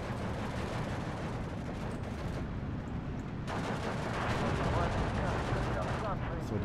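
Machine gun fire in the WWII strategy game Steel Division 2, heard as a continuous dense rattle of gunfire with distant battle rumble throughout, growing somewhat louder midway.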